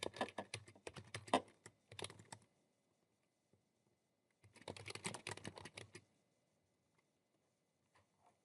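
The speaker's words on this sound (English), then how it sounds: "I'm going to type this in" Typing on a computer keyboard in two quick bursts of close key clicks separated by a few seconds of near silence, with a couple of stray taps afterward.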